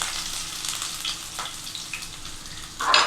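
Small chopped ginger pieces fry with mustard seeds and urad dal in hot oil, a close, steady sizzle with crackling pops, briefly louder near the end as something is stirred.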